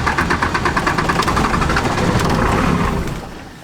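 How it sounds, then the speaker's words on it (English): A truck engine cranks and fights to catch on a cold start, a loud rough rumble with a rapid pulsing rhythm that holds steady, then eases off near the end. "we got some cold start going on now"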